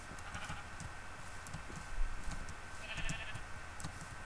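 A sheep in the Minecraft video game bleats faintly amid quiet, steady game background noise, the short bleats soft and distant with no talk over them.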